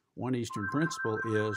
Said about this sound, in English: I apologize for that phone